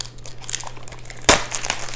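Plastic wrapper on a card game packaging being opened by hand, with soft crinkling building to one sharp, loud crackle partway through, heard close and alone.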